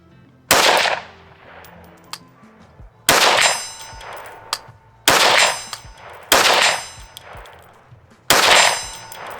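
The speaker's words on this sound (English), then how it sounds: "Let's see if we can hit some steel at 100 yards plus with the brand new Vector Optic Frenzy." A rifle fires at steel targets more than 100 yards away, five sharp shots spaced a couple of seconds apart, each followed by a bright metallic ring that decays slowly, with no talking.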